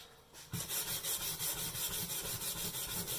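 A brass wire brush scrubs the surface of a 1941 Farnsworth during clean-up, giving a close, steady, harsh rasping with quick back-and-forth strokes after a short quiet start.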